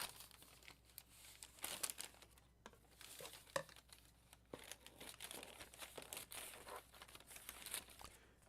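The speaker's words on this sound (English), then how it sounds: "This crinkly paper." Crinkly paper being crumpled and handled up close, with irregular crackling bursts and sharp rustles throughout.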